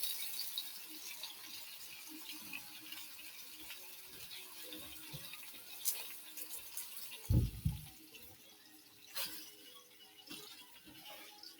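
Water is poured into a pan of stuffed vegetables as they cook, a short, quiet splash and trickle in the middle of an otherwise soft kitchen background with faint clinks.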